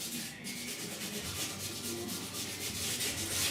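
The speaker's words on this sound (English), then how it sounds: "I just grabbed a piece of 80 grit because it's a little faster" Rough, steady back-and-forth rasping of 80 grit sandpaper worked by hand over primer on the rusty roof of a 1969 Chevrolet C10, continuous close strokes with no talking.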